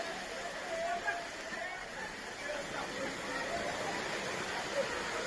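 Floodwater from a cloudburst downpour rushes through a flooded city street in Latur, a steady, roaring wash of moving water heard at moderate level with faint babble of people in the background.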